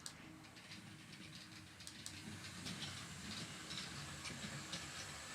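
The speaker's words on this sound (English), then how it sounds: "There's our locomotive getting ready to leave the station." A small Atlas Trainkids glow-in-the-dark toy train locomotive runs along its track with a faint steady whir and light clicking. The sound is quiet and continuous, and no one talks.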